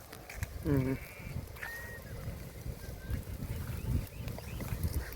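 A Vijayapuri Deccani sheep on a farm bleats once clearly and nearby, followed by fainter bleats and rustling in the open air.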